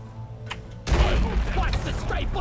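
A rocket jump explosion in the video game Deep Rock Galactic hits with a sudden heavy boom about a second in, followed by rumbling debris and game noise, with voices talking around it.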